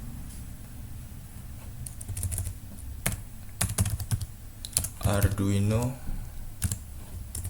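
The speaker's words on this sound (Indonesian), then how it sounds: "Selanjutnya kita ketikkan saja" Typing on a computer keyboard while entering a search into Google Chrome, heard as scattered clusters of clicky keystrokes at close range, with someone speaking over and between the bursts.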